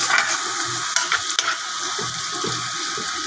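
Chicken adobo with ginger is stirred in a hot pan, giving a loud continuous sizzle with a few sharp scraping clacks of the utensil and no voices.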